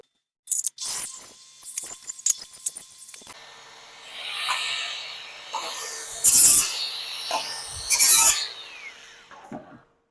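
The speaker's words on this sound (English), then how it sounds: "Need to kind of deburr that, and then we'll put it in the sheet metal break it out of 90." Hand deburring the edge of an aluminum sheet for a custom windshield job, with short rasping and scraping strokes in uneven bursts, a few sharper scrapes standing out, close and moderately loud with no talk.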